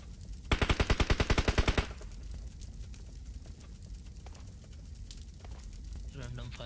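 In an online shooter game, a rapid burst of automatic gunfire rattles for over a second, followed by scattered fainter shots, clicks and crackles of in-game action.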